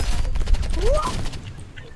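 Rapid bursts of submachine-gun fire from an Uzi in the shooter game Rivals, loud and close, with overlapping game effects and a rising tone under the shots.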